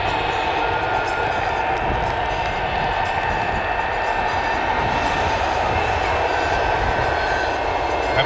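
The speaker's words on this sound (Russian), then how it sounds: "Обратите внимание на короткий пробег на посадке." A Sukhoi Superjet 100 airliner's engines roar steadily and loudly throughout during a short landing rollout at an air show, a broad continuous rumble with a faint whine.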